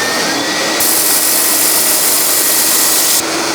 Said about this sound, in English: So let's get the extractor fired up.